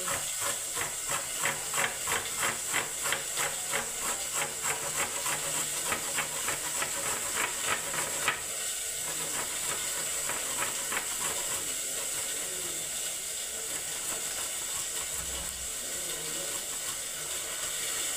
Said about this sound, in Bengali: আদাটাকে আমি গ্রেট করে নিচ্ছি বন্ধুরা এইরকম করে